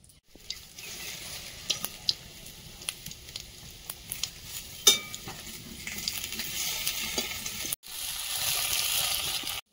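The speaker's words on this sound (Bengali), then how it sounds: "শাক ভাজাটা বসিয়ে দেবো। বসাবো, তেলে শুকনো লঙ্কা দেবো আর গোটা জিরে দিয়ে।" Greens fry in oil with dried red chili and whole cumin, a steady soft sizzle close by with occasional clinks and stirring taps, rising to a fuller hiss near the end.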